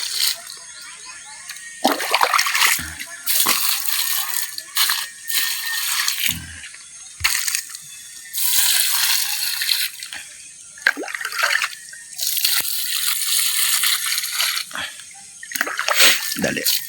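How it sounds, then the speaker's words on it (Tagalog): Water is poured and splashed over sweet potato plants in irregular bursts of splattering and trickling, with pauses between pours. "Bisbis na ta kay sayang pod ang tubig."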